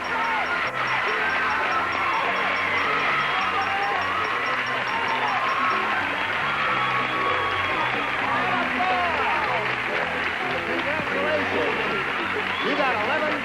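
A 1976 Match Game studio audience claps and cheers in a steady, dense wash of applause that runs throughout while people talk over it.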